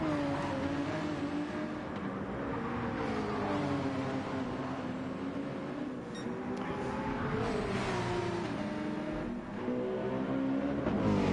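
A McLaren race car, the number 44 of Team MRL, screams past during the Nürburgring 24 Hour race, its engine note loud and continuous with rising and falling revs through gear changes, joined by other race engines.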